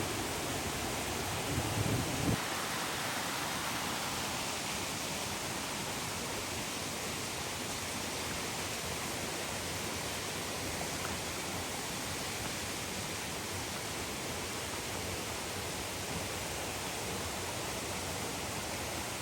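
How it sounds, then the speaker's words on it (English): A rain-swollen creek on the Appalachian Trail rushes past close by as a constant broadband roar of flowing water, steady and unbroken, with a brief faint voice near the start. "the creek is very high, and we get to cross it here, and it's flowing"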